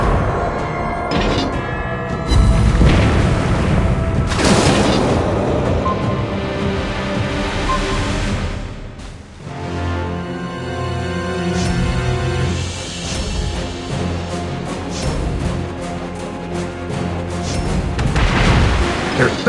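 Destroyer guns of a Tier 8 Amatsukaze in World of Warships Blitz firing in repeated loud booms over a dense bed of game music and engine rumble, with a voice talking at times.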